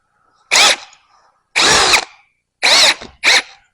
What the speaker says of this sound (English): So let me drill this out.